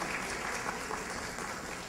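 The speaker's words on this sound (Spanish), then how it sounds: "el aplauso para la señora" Audience applause for a woman winning a neighbourhood prize draw in Miraflores, a continuous, fairly faint patter of many hands clapping in a hall.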